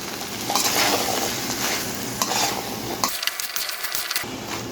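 Spiced chickpeas with green chilies frying in a pan, a loud close sizzle with scraping and stirring of a spatula, busy clattering strokes that grow sparser near the end, no voices.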